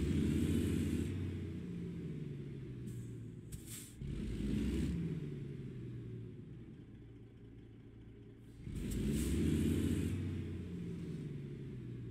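An old vehicle's engine revs in two loud surges separated by a lower, steady rumbling idle while it is put in gear.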